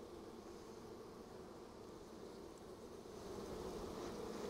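Honey bees buzzing around a hive as many fly in, a faint steady hum of wings with no break, rising slightly near the end.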